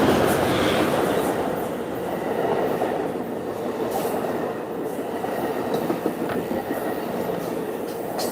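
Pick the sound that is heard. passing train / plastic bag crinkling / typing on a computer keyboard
passing train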